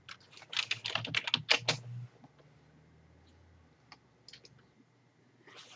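Fast bursts of close computer-keyboard typing, a dense run of key clicks, then scattered single taps after a pause.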